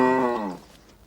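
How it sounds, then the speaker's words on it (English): A cow gives one long, loud moo nearby, a deep sustained drone that lowers in pitch and fades out into quiet outdoor background. "Nugget, that's not a monster, that's a cow"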